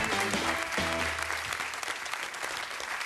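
A TV studio audience applauds departing contestants with loud, continuous clapping, while a brief musical sting plays under it at the start.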